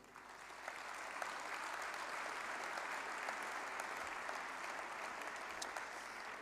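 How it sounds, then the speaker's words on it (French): A hall full of delegates applauds at the FNSEA 2024 farmers' union congress during the Jeunes Agriculteurs closing speech, a steady, even wash of clapping heard from some distance, without any voices. "vous pouvez vous applaudir"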